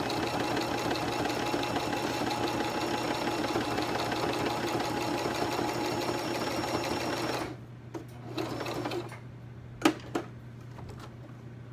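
A sewing machine stitches a shabby chic fabric tag, a steady close motor hum with rapid needle rhythm for about seven seconds, then stopping and giving way to handling clicks and rustles.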